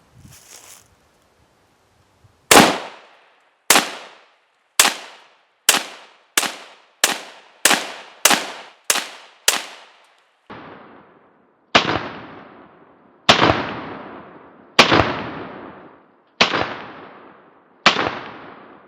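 Rifle shots from a ten-round AC556 magazine fired in an AR-15 or Mini-14 at an outdoor range: sharp, loud, evenly spaced single reports with echoing tails, about sixteen in all, with no talking.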